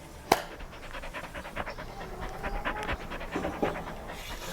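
A dog pants in quick, rhythmic breaths close by, opening with a sharp click and continuing steadily through the clip.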